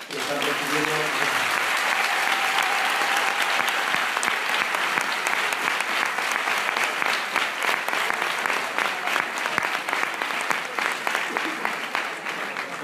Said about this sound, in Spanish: Desde aquí trasladar un abrazo y un aplauso a todos los compañeros de la Autónoma de Madrid